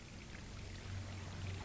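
Water in a model canyon flows down into a reservoir with a soft, continuous pouring and trickling sound. It is quiet and steady, with a faint low hum beneath it.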